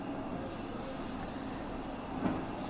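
A steam locomotive running tender first pulls a long train of coaches past with a steady rumble, a broad, continuous low roar, the rolling noise swelling slightly near the end.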